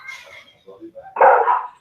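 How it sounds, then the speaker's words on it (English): A dog barks in the background of an indoor interview, a few soft yips and whimpers followed by one louder, sustained bark. "the dog's in the background"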